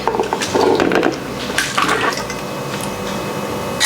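Nettle tea is poured from a pot into a strainer, a steady liquid splash and trickle that is loudest early, then settles into a softer running pour with a few clinks near the end.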